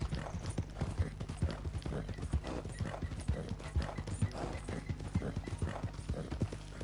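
Horse hooves clip-clopping at a steady riding pace in Red Dead Redemption 2, a continuous rhythmic trot with occasional snorts, moderately close and without talk.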